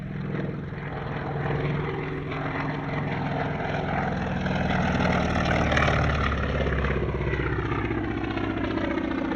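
A CAC Wirraway propeller warbird flies past at an airshow, its steady engine drone rising and shifting in pitch as it passes, loud and continuous with no talk.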